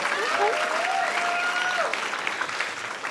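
A comedy club audience at a stand-up show bursts into steady, dense applause that stays loud and even for the whole stretch, with a few scattered voices mixed into the clapping.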